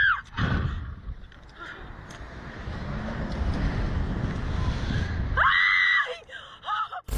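Women on a thrill ride at an amusement park let out loud, sustained screams over rushing wind noise, with sharp shrieks at the start and again near the end.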